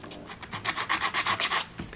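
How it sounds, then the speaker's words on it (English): Light hand sanding along the edges of a wooden fascia board gives a quick, even rhythm of rasping strokes, close and fairly quiet. "And to finish off, just a little bit of light sanding, just to take off any uneven edges"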